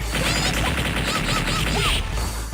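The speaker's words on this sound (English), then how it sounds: "That was the sound of someone getting their ass kicked by Chun-Li" Loud Marvel Super Heroes vs. Street Fighter fight on Sega Saturn, with repeated punchy hit impacts and whooshes over busy arcade music and effects, dense and continuous.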